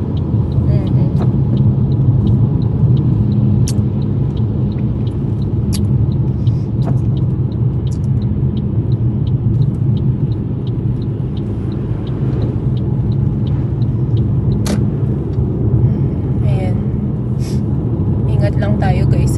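A car drives steadily on a slippery, snow-covered residential road in Canada, its engine and tyre rumble continuous and close throughout, with occasional faint clicks.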